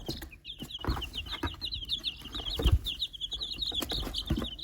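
Chickens cluck and chatter close by in quick, irregular bursts, with light rustling and shuffling underneath.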